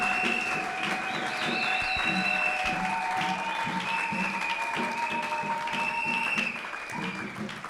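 A church congregation applauds for Jesus during a pastor's prophetic sermon. Steady, dense clapping continues throughout, with faint sustained tones behind it.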